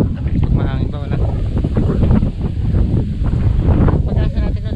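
Strong gusts of wind buffet the microphone in a low, continuous roar over wide farm fields, with a voice speaking intermittently over it.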